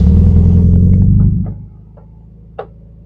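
A 1971 Volkswagen Beetle Autostick engine, loud and near, chugs with a rough low rumble for over a second, then cuts off to a quiet idle-level hush and a single sharp click.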